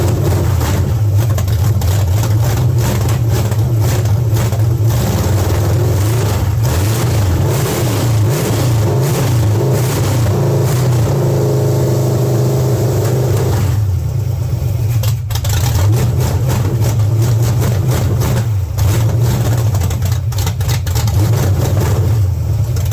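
A rebuilt small-block Chevy 350 V8 runs on an engine run stand, carburetor secondaries hanging slightly open, its loud steady rumble rising and falling through repeated revs for the whole stretch with no talking.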